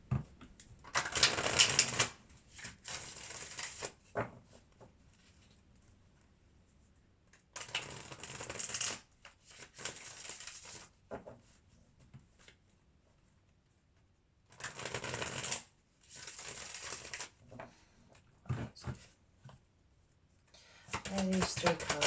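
Tarot cards are shuffled in short riffling bursts that come in several separate rounds with quiet gaps between, close and soft.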